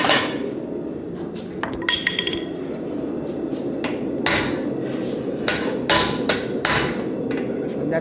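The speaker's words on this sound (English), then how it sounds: "I'm going to need a striking hammer." A blacksmith's striking hammer rings on hot metal in a smithing demonstration at a conference, bright clanging blows landing irregularly and then in quicker runs, loud and close, with no voices.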